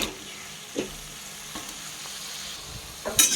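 Peas, cauliflower and onion greens fry in a pan with capsicum, beans and carrot for vegetable pulao: a steady close sizzle with a few soft stirring knocks and a louder scrape near the end.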